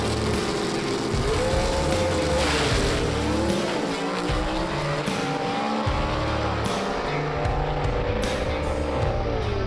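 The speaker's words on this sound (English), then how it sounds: "North Carolina racer Bill Revels in that 63 Comet, the Black Betty he calls it, taking on Ken Rainwater out of Kimberly, Alabama in the Renegade" Drag race gasser cars, a 1963 Mercury Comet against another B-Gas racer, roar loudly and continuously down the strip with shifting engine pitch and a brief squeal, heard from nearby for nearly ten seconds.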